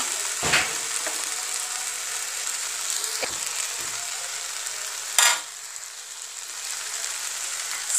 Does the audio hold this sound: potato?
yes